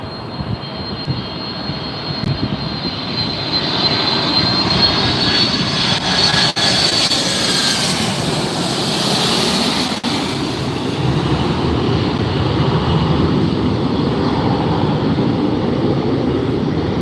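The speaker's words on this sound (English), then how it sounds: "767 400 series ER that will be here in just a moment, low and loud." A Delta Boeing 767-400ER jet roars in low and loud on landing at LAX, a broad engine rumble with a whining high tone that builds and holds for many seconds, close and powerful, with no voices.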